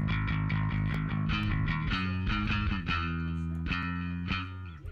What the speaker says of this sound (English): one of my favourite things to do with bass is add a bit of room reverb